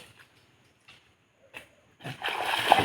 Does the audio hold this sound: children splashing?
yes